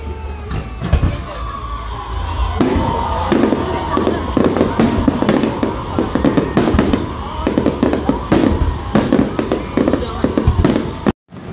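Fireworks crackle and pop continuously nearby at H2O Hotel, Manila Ocean Park, with rapid bursts and booms layered over a noisy crowd and occasional voices.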